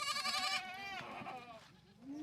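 Hungry red Kathewadi goats bleat close up, one long wavering cry followed by a shorter one and a rising final call, loud and clear over a quiet background.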